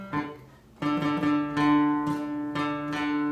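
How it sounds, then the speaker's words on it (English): A guitar string is plucked over and over while being tuned, each note ringing clearly and decaying before the next pluck, about five close, moderately loud notes with no speech. "And then you pluck the next string underneath it."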